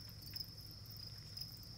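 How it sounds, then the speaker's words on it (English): Male crickets chirp steadily in a cricket farm breeding setup, a thin continuous high trill with brief louder pulses, faint and close, with no talking. "You can hear the chirping males."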